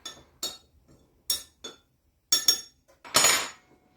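A spoon clinks against a bowl while baking soda and salt are stirred into a mixture for copycat Little Debbie banana twins. The bright, close taps land irregularly in small pairs, ending with a longer scraping clatter.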